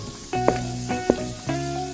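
Tofu frying in a pan, a steady sizzle with a few sharper crackling bursts across two seconds, close and fairly loud with no voices.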